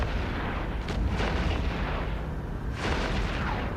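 Turrets on a Machariel battleship fire in the space game EVE Echoes, heavy booming cannon blasts rolling into one another, with a strong burst near the start and another swelling near the end over a dense rumbling bed.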